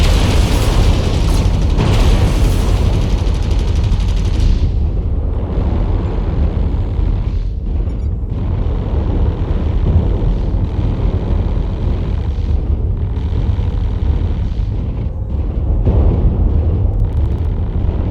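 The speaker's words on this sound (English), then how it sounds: "Incoming missile." Missile explosions in MechWarrior Online: loud, dense rumbling blasts and booms roll on continuously, heaviest at the start and swelling again near the end, with no voices over them.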